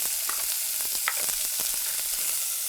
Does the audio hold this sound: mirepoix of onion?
yes